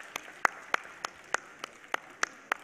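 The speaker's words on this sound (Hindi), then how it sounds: "तालियों के साथ महोदय का स्वागत।" Sparse, evenly spaced hand claps ring out at a yoga festival in Delhi, about nine sharp separate claps in a slow regular beat, fairly faint with a quiet room behind.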